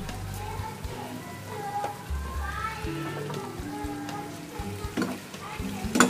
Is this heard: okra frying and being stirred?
yes